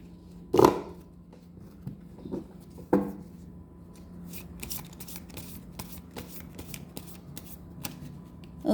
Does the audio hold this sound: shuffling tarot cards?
yes